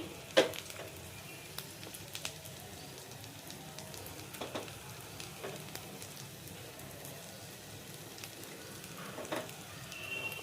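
A broccoli omelette fries in oil in a pan, giving a quiet, steady sizzle with a few sharper pops and crackles throughout. No one speaks over it.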